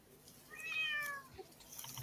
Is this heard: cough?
no